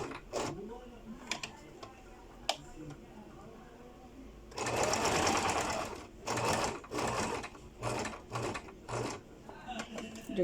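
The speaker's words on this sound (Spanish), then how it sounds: "Haciendo remate tanto al final como al principio." Sewing machine runs in short bursts while backstitching at the start and end of a seam on a skirt, with quiet clicks and handling noises between runs and a loud sustained whir in the middle.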